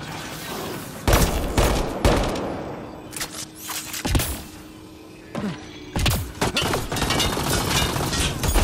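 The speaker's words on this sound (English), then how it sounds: "Still shooting here!" Bursts of gunfire crack through a Mass Effect Andromeda firefight, loud rapid volleys separated by brief lulls, with impacts, debris clatter and a low background hum, no speech.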